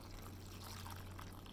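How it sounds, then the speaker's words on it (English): Half a cup of water pours steadily onto cornstarch, a soft continuous trickle at close range with a low steady hum beneath, no talking. "The next thing I'm going to put in is the half a cup of water."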